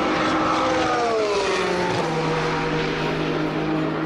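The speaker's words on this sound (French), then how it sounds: "j'aime beaucoup le bruit de l'Isotta Fraschini" Isotta Fraschini hypercar engine, a steady droning roar with a falling pitch sweep as it passes, heard at a distance against a noisy background with no voices.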